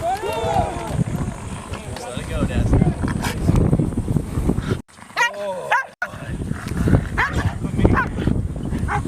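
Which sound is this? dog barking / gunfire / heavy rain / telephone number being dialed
dog barking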